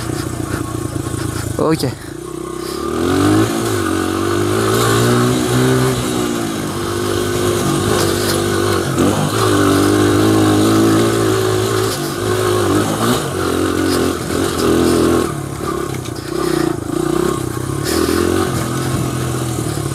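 A 2001 Honda XR100R motorcycle ridden at an easy pace, its small engine droning steadily with rising and falling revs and some clatter, while someone talks over it throughout.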